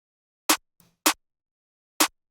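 Trap drum pattern programmed in FL Studio, with a bounce note at the end of the fourth beat: three crisp, bright drum hits, plus a faint, soft ghost hit tucked in shortly after the first, played alone with no voices.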